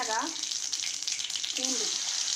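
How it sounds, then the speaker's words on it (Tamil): Mustard seeds and dried red chilies frying in hot oil, a steady bright sizzle with light crackle beneath brief talk at the start and again near the end. "எண்ணெய் காஞ்சதும் கடுகு வரமிளகா"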